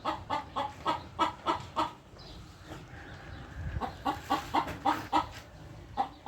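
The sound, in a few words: chicken clucking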